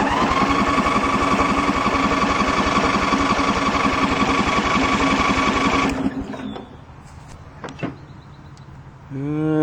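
A Sabre lawn tractor engine cranks to start with a loud, steady whirring drone for about six seconds. It then stops, leaving faint clicks and a brief rising whine.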